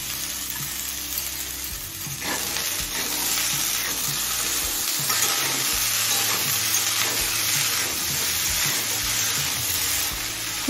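Cauliflower and peas tipped into hot oil and sautéing in a pan for a savoury vegetable patishapta filling, a loud continuous sizzle with stirring scrapes and no voices.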